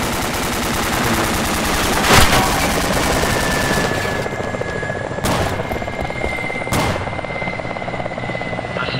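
Helicopter hovering in the combat video game ArmA 2 ACE, a steady loud rotor drone throughout with sharp bursts of gunfire cutting through near the start and again in the later seconds.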